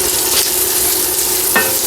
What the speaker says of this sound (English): Our bacon is melting, rendering out.